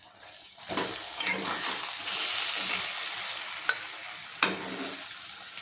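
A mixed vegetable omelette sizzles steadily in a pan just after being flipped, with a constant close frying hiss broken by a couple of sharp clinks partway through.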